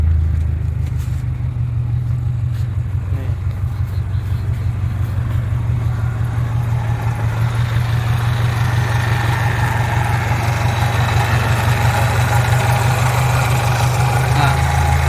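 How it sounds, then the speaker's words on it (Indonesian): A 1994 Suzuki Katana engine, modified into an off-road Jimny style, idling close by with a steady low rumble and a slight vibration, its loud, even drone continuous throughout. "ini kondisi mesin yang memang agak sedikit bergetar karena setelahnya saya rendahkan"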